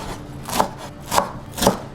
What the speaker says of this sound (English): a good trick will be to roll all the greens, preferably just one type of them, to roll them together and start chopping like this